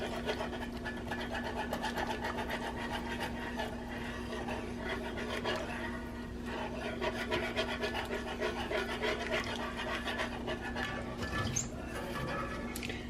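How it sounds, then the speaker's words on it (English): A whisk scrapes and stirs continuously as sour cream is beaten into gravy for chicken paprikash, a steady close rasping rhythm with a faint background hum. "you whisk it into your gravy"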